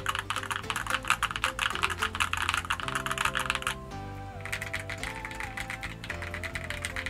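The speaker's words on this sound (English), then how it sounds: "I'm not at all impressed with this keyboard." Rapid typing on a Momoka Zoo 65 mechanical keyboard produces dense, steady clacking keystrokes over soft background music, pausing briefly midway before resuming.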